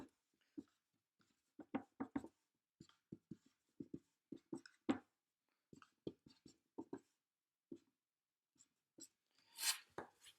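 Pen or pencil scratches out handwritten algebra notes in a series of short, quiet strokes and taps with brief pauses between them, close and alone.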